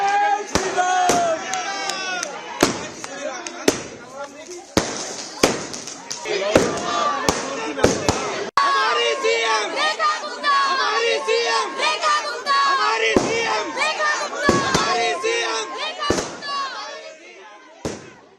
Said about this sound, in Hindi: आतिशबाजी होने लगी, घर परिवार और पड़ोसी सब झूमने लगे